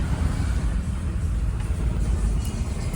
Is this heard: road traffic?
yes